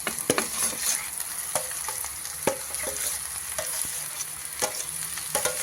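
Boiled grated potatoes going into a frying pan with onions: a soft sizzle underneath while a spoon stirs and taps the pan in scattered sharp knocks, close and fairly quiet.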